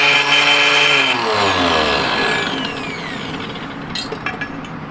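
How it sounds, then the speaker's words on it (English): A machine grinds gold ore rock, starting with a loud whining motor that winds down in pitch, then a rough, gritty crushing clatter continues more quietly, with a few sharp knocks near the end. "So, I'm going to grind up the rest of this rock."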